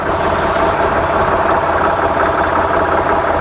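A Massey Ferguson MF 255 tractor engine running steadily at close range, a loud, continuous diesel rumble with a knocking, vibrating texture and no pauses.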